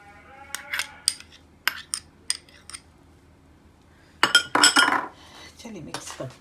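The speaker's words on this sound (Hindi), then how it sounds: "चलिए मिक्स करते हैं इसे।" A tuna and potato kebab mixture with chopped onion and green chillies is stirred in a bowl, giving scattered clinks and scrapes of a utensil against the dish, then a busier burst of clattering near the end.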